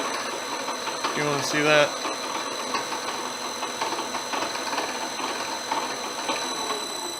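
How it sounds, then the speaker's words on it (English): A 1987 Millport 1630 CNC knee mill with a Centroid retrofit runs its spindle at high range, giving a steady mechanical whine and hum with faint tonal overtones, while a person talks briefly over it. "You see the spindle rotating, reversing direction."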